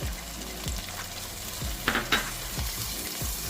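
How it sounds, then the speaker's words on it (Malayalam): Grated ginger, shallot and garlic frying in a pan for a Kerala-style river fish curry, a continuous sizzle broken by repeated scrapes of a spatula and a couple of sharper clinks, no voices. "അതിനോടൊപ്പം തന്നെ ചെറുതായി ഗ്രേറ്റ് ചെയ്ത വെളുത്തുള്ളി കുറച്ച് നന്നായിട്ട് മിക്സ് ചെയ്ത് മൂപ്പിച്ചെടുക്കണം"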